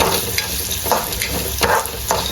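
Coriander and spices frying in oil for Mangalore-style crab sukka, with a steady, close sizzle and a few soft stirring scrapes.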